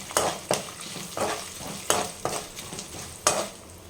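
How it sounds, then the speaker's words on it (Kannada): Turmeric powder and asafoetida fry in hot oil for puliyogare tamarind paste. A soft sizzle runs under about six sharp, uneven scraping strokes as a spoon stirs the pan, with no talking. "ಸ್ವಲ್ಪ ಹಿಂಗು, ಇದಿಷ್ಟು ಹಾಕಿ ಒಂದು ನಿಮಿಷ ಚೆನ್ನಾಗಿ ಫ್ರೈ ಆಗಲಿ"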